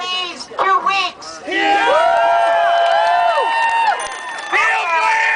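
A rally crowd in Canada cheers and whoops together in a loud sustained swell lasting several seconds, with shouting voices before and after it.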